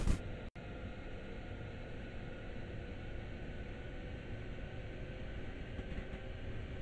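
A train runs in Train Sim World on a suburban route, giving a steady, even rumble with a brief click near the start and no other change throughout.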